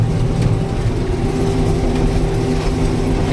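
A John Deere 8830 windrower cutting alfalfa hay in a field, a loud, steady engine drone that holds even throughout with no talking.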